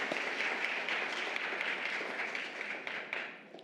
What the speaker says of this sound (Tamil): கைதட்டு கொடுப்போமா?